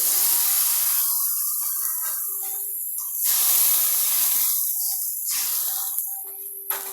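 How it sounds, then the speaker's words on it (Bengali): Water hits frying onions in a hot pan, bursting into loud hissing sizzles that fade and flare again in several waves, with no talking. "পেঁয়াজগুলো একটু ভাজা হয়ে গেলে এখানে আমি অল্প করে পানি অ্যাড করে দেব।"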